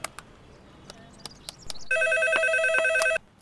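A telephone rings in a steady electronic bell pattern, loud and close, starting partway through after a stretch of faint room noise and a few clicks, with no talking.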